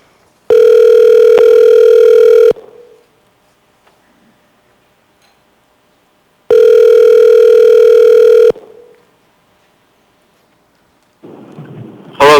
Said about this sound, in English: We'll go back to the phone and try Mr. Imbriani again.